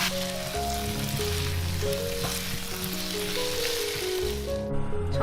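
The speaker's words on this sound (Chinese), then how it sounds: "翻炒均匀" Pan-fried pumpkin sizzles and crackles softly on low heat as soy sauce and oyster sauce are stirred through in the pan, with faint music playing behind.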